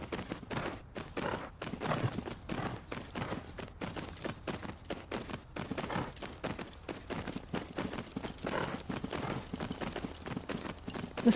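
Steady clip-clop of horse hooves in the Tales of Rein Ravine video game during dressage practice, a continuous brisk rhythmic patter of hoofbeats, fairly close, with no talk over it.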